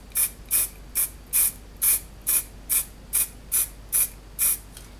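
A spray paint can applies a second coat through a stencil in about a dozen short, evenly spaced hissing bursts, each close and crisp, with quiet gaps between them.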